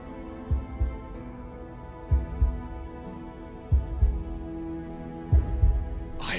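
A slow, deep heartbeat thumps in the video game Lies of P, four paired double beats spaced evenly over a low sustained hum, loud and close with no talk.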